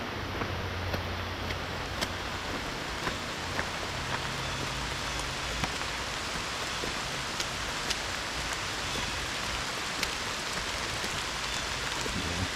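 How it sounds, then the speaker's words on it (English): Steady rain patters through woodland on a hike at Asbury Woods near Walnut Creek, Erie, a dense even hiss with scattered sharper drips, close and continuous with no talk. "It's still raining, but it's letting up."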